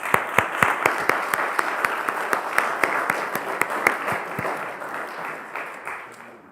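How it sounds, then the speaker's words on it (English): An audience at a Boy Scout Eagle Court of Honor claps in a room, brisk and fairly loud, with individual claps standing out, before the applause thins and fades toward the end. "So let's give them a hand of applause."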